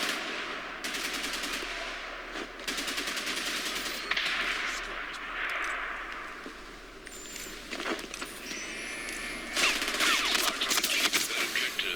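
Gunfire in the video game Batman Arkham Origins, with rapid bursts of machine-gun fire and scattered shots across the whole stretch, loud and dense with layered game effects.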